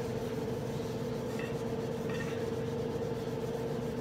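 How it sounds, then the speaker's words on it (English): A Scotch-Brite scouring pad lightly scuffs a tumbler, giving a continuous close rubbing hiss over a steady background hum, with no voices. "This right here is my Scotch Brite. It's pretty much like a Brillo pad, and I'm just giving it a light scuff."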